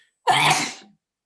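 A single sharp, close sneeze bursts out abruptly and trails off within a second, alone during an online community discussion.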